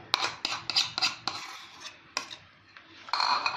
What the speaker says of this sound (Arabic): وغادي نستمروا في تحريك هذا الخليط هذا.